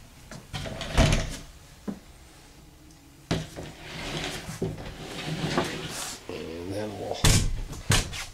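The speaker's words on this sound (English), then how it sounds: "Close your pocket door here to show you the privacy effect for the master." A pocket door slides and thuds shut inside the master cabin of a 2002 Sea Ray 460 Sundancer yacht, with several knocks and bumps of wood, while someone talks throughout.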